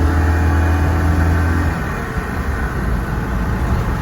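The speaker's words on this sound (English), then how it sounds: "So what I'm going to do is I'm going to take this car for a drive." Citroen 2CV on the road with its engine running and the roof down: a loud, steady low rumble with an engine drone that shifts partway through, with no talk.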